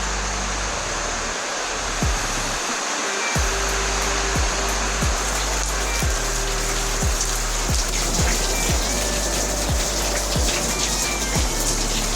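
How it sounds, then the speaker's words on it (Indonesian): Steady, dense hiss of heavy rain pours continuously, with a low hum and regular faint ticks underneath, no voices. "Hujan."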